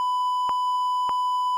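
Two short, loud censor beeps, a steady pure tone punctuated by two brief pulses about half a second apart, with no talking around them.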